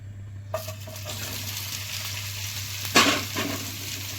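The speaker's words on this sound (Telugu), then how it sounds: "కళాయి పెట్టి 2 స్పూన్లు ఆయిల్ వేసుకుందాం. కాకరకాయ వేయించుకుందాం." Oil sizzles softly in a pan after bitter gourd pieces drop in, with a brief louder hiss and stirring scrape near the end.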